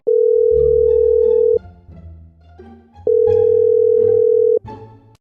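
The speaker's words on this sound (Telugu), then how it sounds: "కాల్ చేసి డిస్టర్బ్ చేద్దాం" A telephone ringback tone plays while a call is being placed: long, steady beeps with pauses between them, over faint background sounds.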